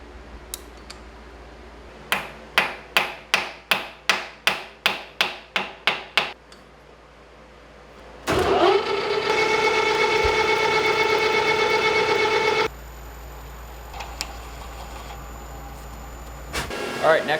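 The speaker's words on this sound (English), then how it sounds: "We're just going to face it off in the lathe." A lathe faces off a metal part, a steady loud grinding whine of cutting lasting several seconds, preceded by a run of sharp rhythmic knocks and followed by a quieter hum with light clinks.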